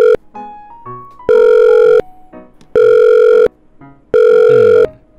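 Phone ringback in a Minecraft roleplay after dialing a number: short dial-tone beeps then three long, loud ring tones with gaps between them, no voices over it.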